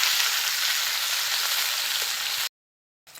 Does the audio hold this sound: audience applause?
no